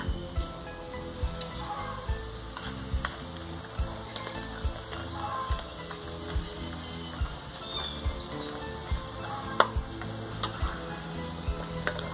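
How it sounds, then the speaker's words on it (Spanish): Tostaditas frying in a pan for pozole blanco: a steady, moderate sizzle with faint crackles throughout, and no talking over it. "Ahora vamos a dorar las tostaditas."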